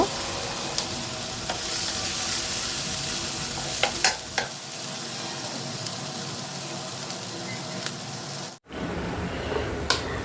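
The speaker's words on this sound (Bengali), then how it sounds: "আর এবার হচ্ছে এখানে আমি পোলাওটা বসিয়ে দিয়ে ভালো করে একটু ভেজে নিলাম" Pulao rice frying in oil with onion and garam masala on an induction cooker: a steady close sizzle with scraping stirs throughout, briefly cutting out near the end before resuming.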